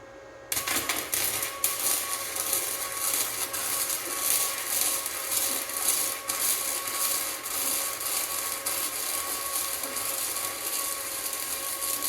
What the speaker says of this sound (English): Then we can grind off those welds that were interfering with the bolt alignment